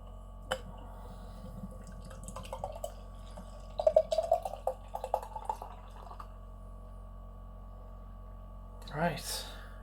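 Small liquid drips and trickles patter near the microphone as a beer can is opened and a double IPA poured, followed by a brief fizzing gush, with quiet background hum.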